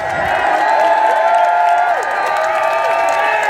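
A protest crowd at an outdoor Canada Day rally cheers and whoops for Norman, a steady wall of voices and shouts with scattered claps, loud and continuous throughout.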